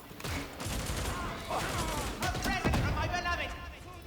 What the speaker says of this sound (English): There we go, that was the punch grenade